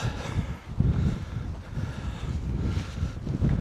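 Wind gusting along the Yorkshire coast on a cloudy day, a steady low rumble buffeting the microphone with rising and falling surges throughout, with no voices.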